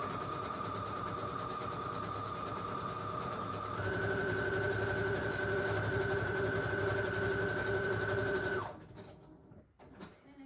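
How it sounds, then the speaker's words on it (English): A sewing machine stitches down the edges of a junk journal pocket, its motor whirring steadily and close, rising in pitch partway through before stopping abruptly near the end. "I'm quickly going to sew down the two edges just right off camera"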